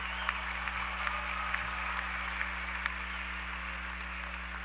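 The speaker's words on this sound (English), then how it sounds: "Let's applaud our College of Business graduates." Steady applause from a commencement audience for College of Business graduates at a university fall ceremony, a dense continuous patter of many hands clapping without a break, heard from a distance in a large hall.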